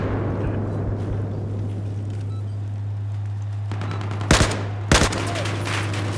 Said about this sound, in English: Oh, shooting at friendlies.